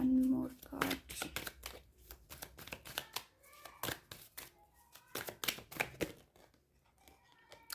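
Tarot cards are shuffled and drawn in repeated quick riffling bursts and soft slaps, close and fairly quiet, with a voice speaking intermittently between them.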